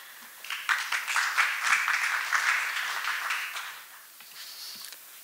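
An audience at an academic seminar on martial arts claps for a presenter being welcomed to the stage, the applause swelling quickly, holding moderately, then tapering to scattered claps.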